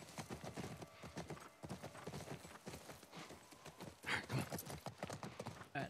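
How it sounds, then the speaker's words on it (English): Steady hoof clip-clop of a horse being ridden in The Last of Us Part I, a close rhythmic trotting beat that runs throughout, with a brief snort or whinny-like burst near the end. "Just to remind me that I'm riding a horse."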